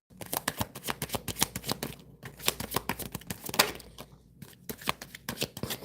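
A deck of tarot cards being shuffled over and over, a steady run of crisp riffling flicks and soft slaps up close, with short pauses between bursts and no talking.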